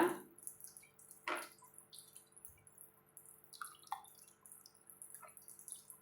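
Sliced ivy gourd pieces being rinsed by hand in a bowl of water, giving soft splashes and drips in a quiet kitchen, with a few louder sloshes near the start.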